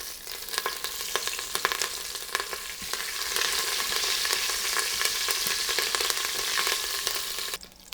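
Curry leaves sizzle and crackle in hot oil with asafoetida, a dense hissing spatter with scattered pops, close up and steady throughout.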